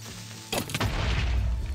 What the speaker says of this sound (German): Der Creeper sollte ihn jetzt explodieren lassen.